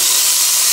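Tomatoes slid into a hot pan of oil with onions, green chili, curry leaf and asafoetida, giving a loud, steady steamy hiss that stays even for under a second with no talk.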